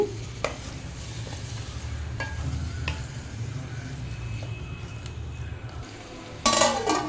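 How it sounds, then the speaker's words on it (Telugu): Ginger garlic paste is stirred into chicken curry in a pan, a soft low sizzle beneath scattered spoon scrapes and light metallic clinks, ending with a sharper clatter against the pan. "ఒక టీ స్పూన్ అల్లం వెల్లుల్లి పేస్ట్ వేసుకుంటున్నాను వేసుకుని బాగా కలుపుకోవాలి"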